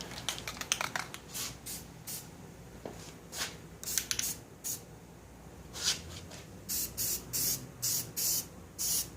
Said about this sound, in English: Let's throw some paint on it, shall we?